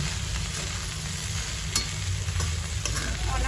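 Okra roasting dry in a pan before tempering, a steady close sizzle with occasional scrapes of stirring, continuous and fairly quiet throughout.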